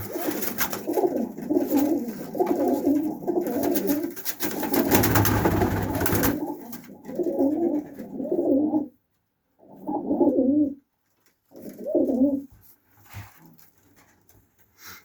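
Pakistani high-flying breed pigeons coo in repeated low, throaty phrases close by, with a brief burst of rustling partway through and short pauses between calls.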